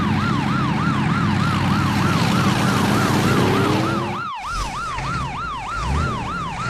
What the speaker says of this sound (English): Police monster truck.